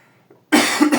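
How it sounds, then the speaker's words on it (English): A person with a flu gives a short, loud cough close to the mic, a burst of a couple of harsh bursts after a near-silent start. "little cough here"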